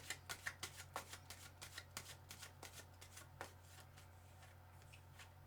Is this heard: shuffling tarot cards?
yes